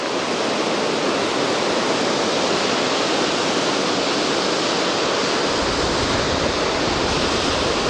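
Rough sea waves roll in at the Anapa shoreline as a dense, constant roar of surf, loud and unbroken throughout with no voices.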